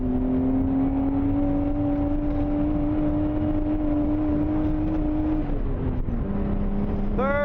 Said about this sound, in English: Third gear, wide open throttle.